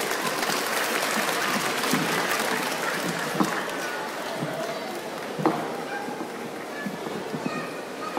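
Audience at an animal show in a cinema clapping steadily for several seconds, a dense, even patter of many hands with a few sharper claps and faint voices beneath.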